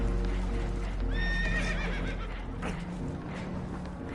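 Horses in a video game, Red Dead Redemption 2, neigh and whinny loudly and in alarm, with hoof clatter and a busy, noisy background.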